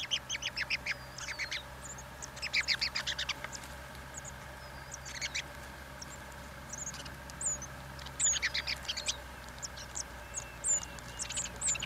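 A pair of larks at a nest with chicks, giving short bursts of repeated high chirping calls in clusters, fairly close, over a steady low background hum with no talk.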